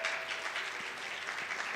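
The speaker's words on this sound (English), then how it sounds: "Can we please just welcome her with a huge round of applause?" An event crowd at a World Food Day gathering with a community meals charity applauds to welcome a speaker to the stage. A brief, even wash of many hands clapping at a moderate level fills the whole moment.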